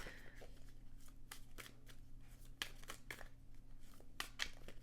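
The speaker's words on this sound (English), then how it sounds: "Having issues shuffling here." Tarot cards are shuffled by hand in a quiet room, giving a series of soft, papery riffles and slaps at irregular intervals, faint and close with no talking.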